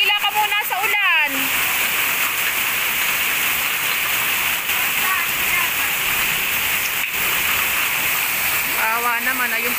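Heavy rain pours in a loud, constant hiss, with brief voices at the start and near the end.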